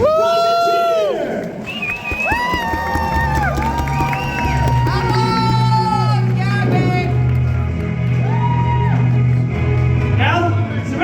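Audience at a Disney show cheering and shouting loudly, a dense crowd roar with whoops and children's voices over a musical backdrop, sustained throughout.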